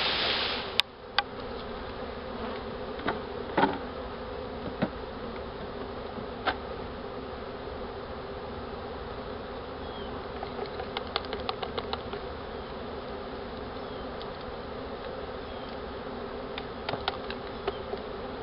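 A dense, steady buzzing drone of many honey bees swarming close by, with scattered clicks and bumps over the continuous hum.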